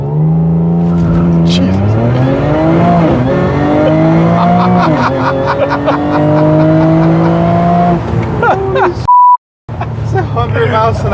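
A 600hp MRA1900 car launching hard with tires spinning through first gear, the engine note rising loudly across several gear pulls, with people exclaiming inside the car and a brief bleep near the end.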